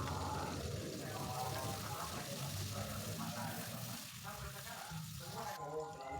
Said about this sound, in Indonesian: Lanjut kita goreng teri